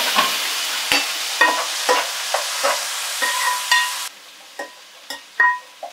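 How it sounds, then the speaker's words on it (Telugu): Chana dal drops into a hot oil tempering and is fried while a spoon stirs it, producing a steady sizzle broken by repeated scraping clinks against the pan, close and clear with no talk. "ఈ శనగపప్పు ఈ పోపులో వేసేయాలి"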